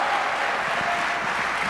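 A conference audience breaks into sustained applause, a thick, even wash of many hands clapping that fills the room at steady loudness without pause.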